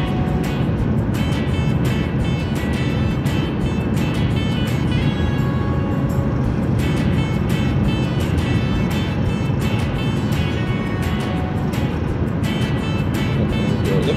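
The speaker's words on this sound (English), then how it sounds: "it looks like it's using all EV, and the engine is kind of idling." A Toyota Prius Prime runs at 16°F in EV mode with its engine idling, heard from inside as a steady, loud, unbroken drone throughout with no one speaking.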